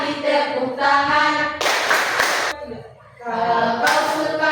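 Students at a junior high school sing a children's action song together, with bursts of group hand clapping between sung lines, two loud stretches of crisp clapping breaking up the chorus of voices.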